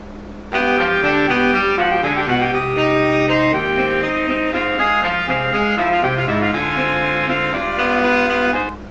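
Orchestral music by Brahms plays a lively, dancing melody with layered sustained tones, steady and moderately loud, no voices.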